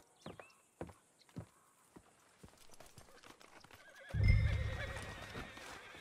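A horse in Red Dead Redemption 2 gives short clopping hoof steps and a whinny early on, fairly quiet, before a louder rumbling swell of game ambience takes over toward the end.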